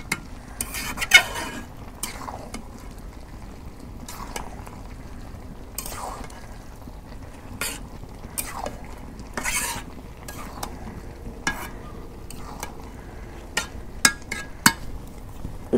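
Beef tripe stirred and sautéed in a pan over a village cooking fire, a metal spoon scraping and clinking against the pot in irregular strokes over a soft sizzle, with no talking.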